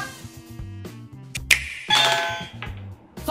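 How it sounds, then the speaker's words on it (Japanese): Short bright electronic chime of a Nintendo Switch commercial jingle, a few quick plucky notes with a clicky rhythm followed by a brief rising sparkle, heard alone and fairly close. "スイッチの CM の音。"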